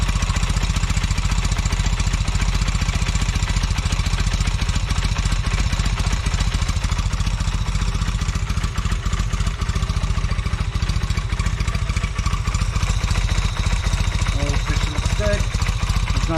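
A newly rebuilt Velocette motorcycle engine runs at a loud, steady idle with rapid, even exhaust pulses and mechanical clatter, with a slight exhaust leak noted, continuous throughout.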